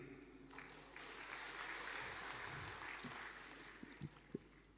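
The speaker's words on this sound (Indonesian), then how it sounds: "Jangan terlalu cepat tepuk tangan." Audience applause at an Indonesian political speech, a broad steady wash of clapping filling the hall for several seconds, with a few sharper claps standing out near the end.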